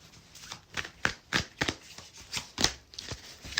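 Tarot cards are shuffled close up in a run of crisp riffling bursts, about a dozen quick papery flutters in an uneven rhythm with no talking.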